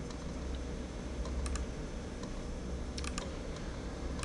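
A computer mouse clicks a few times, quick and close, during dimensioning work in Revit, over a steady background hiss.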